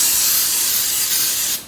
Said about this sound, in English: now my best friend, baking spray